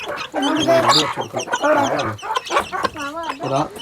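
A chicken clucking loudly and repeatedly up close, in short choppy bursts.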